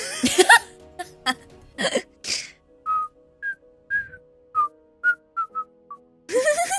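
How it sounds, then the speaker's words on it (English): A person whistles a short tune in clear, separate notes, preceded by a few coughs or throat sounds and ending with a burst of noise. "And I'm just gonna start whistling."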